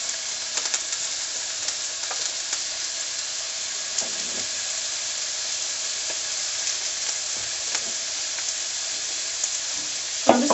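Sliced peppers and chilies sizzle steadily in a hot pan for a vegan yam stir-fry, a constant close hiss broken by a few faint stirring clinks.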